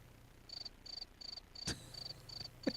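Crickets chirp in short, evenly spaced bursts of high trilling pulses, repeating about every third of a second against a quiet background, with one sharp thump partway through.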